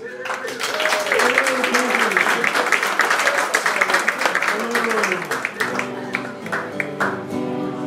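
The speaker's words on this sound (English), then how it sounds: "Big round of applause for Mr." An audience applauds for a performer named James Hawkins at an outdoor music event, the clapping steady and fairly close while someone talks over it and a guitar is tuned and strummed.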